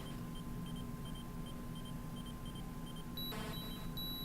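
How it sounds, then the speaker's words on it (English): Kryptonite beeps in the Atari 2600 Superman video game, a faint, evenly repeating electronic bleep over a steady low hum, with a brighter burst of tones near the end. "and you have kryptonite, that little beeping sound you hear there"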